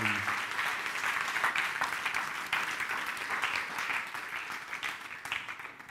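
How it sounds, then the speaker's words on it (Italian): An audience at an experiential conference in Italy claps in loud, sustained applause that gradually thins toward the end. "Rifatevi un applauso anche per questo, eh? Rifatevelo bello forte."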